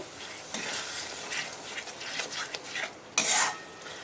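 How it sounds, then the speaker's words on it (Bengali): Beaten sour yogurt stir-fried with softened tomatoes in a pot for village-style mutton curry, a steady close sizzle with repeated spoon scrapes and stirring strokes, one brief louder clatter near the end, no voices. "তার মধ্যে আমি ফেটিয়ে রাখা টক দইটা দিয়ে দিচ্ছি টক দইটাও ভালো করে কষিয়ে নেব"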